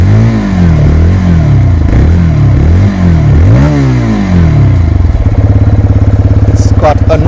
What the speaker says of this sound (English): There's a gentle purr to the engine.